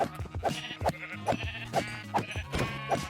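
Sheep in the Minecraft video game bleat repeatedly, about eight short close bleats in a fairly even rhythm, with no talk over them.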